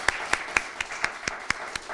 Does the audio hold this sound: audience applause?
yes